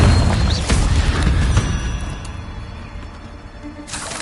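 A Confringo fire spell bursts in Hogwarts Legacy with a loud booming blast that rumbles and fades over a few seconds, followed by a brief whooshing swell near the end.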